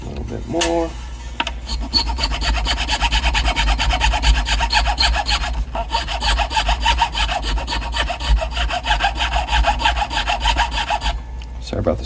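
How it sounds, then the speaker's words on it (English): Squeaking and rubbing from an unglued replacement tuner being worked on a Gibson Firebird guitar headstock, a steady close scraping texture running nearly the whole time with a faint hum underneath. "Sorry about the squeaky noise because it's not glued in yet"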